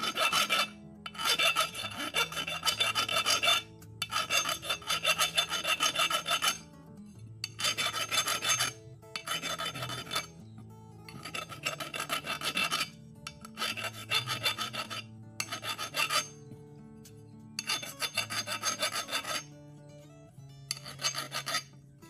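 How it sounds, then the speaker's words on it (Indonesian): Hand file rasping metal burrs off a freshly drilled part for a homemade bullpup pump airgun, in repeated bursts of fast back-and-forth strokes separated by short pauses, close and clear with no talking. "Kita harus amplas ataupun dikikir dulu, karena pasti ada sisa-sisa serpihan besi dan sebagainya yang menyember di sela-sela bor ini."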